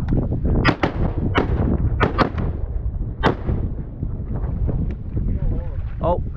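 Shotgun blasts during a duck hunt, several sharp loud reports spread irregularly over a few seconds, amid wind buffeting and excited voices of hunters talking.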